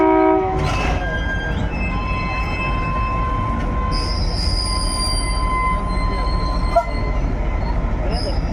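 A train passes the Kurmitala rail gate heading for Murshidabad station, with a loud continuous rumble of wheels on track, high-pitched wheel squeals drawn out over several seconds and a short horn blast near the start.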